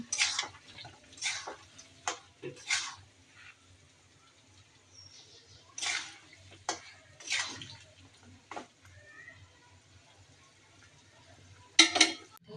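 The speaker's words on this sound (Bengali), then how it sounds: "মাছগুলো আমি ভালো করে কষিয়ে নেব" Fish being sautéed in a pan in a home kitchen, heard as intermittent scrapes and clinks of a utensil against the pan, spaced irregularly with quiet gaps between, close and moderately loud.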